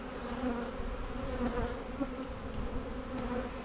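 Honeybees hum around a nucleus hive in a constant, low, close swarm drone with slight swells and no voices.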